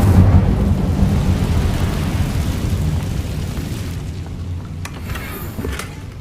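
Casting the Incendio fire spell in Hogwarts Legacy sets off a loud, sustained roaring blast of fire with deep rumbling that gradually tapers, with a few sharp crackles near the end.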